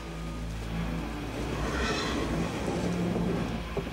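A train travels toward Galatz in a Dracula audio drama, a steady low rumble with faint rattling of the carriages that swells slightly midway, heard alone without any voices.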